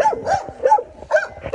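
A blind stray dog whimpers and gives short yipping barks at close range, in a quick uneven series of high-pitched cries.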